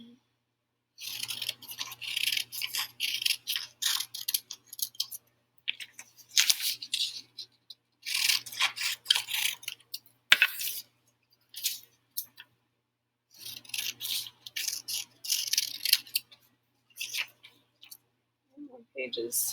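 Scissors snip through paper booklet pages in repeated bursts of quick crisp cuts separated by short pauses, close and moderately loud.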